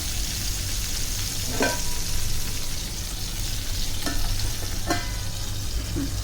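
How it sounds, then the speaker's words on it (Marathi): Stuffed crab fries on a tawa over low heat, giving a steady close sizzle and crackle with a few sharp spatula clinks and scrapes, no talking. "आणि आता झाकण ठेवणार आहे आपण गॅस बारीक करून वाफेवर छान शिजण्यासाठी."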